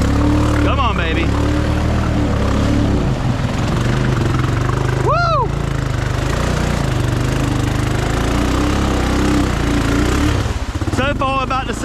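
A lifted Honda Foreman 500 ATV on wide Silverback tires drives close by, its loud engine droning steadily throughout, with a few brief rising revs and whines cutting in.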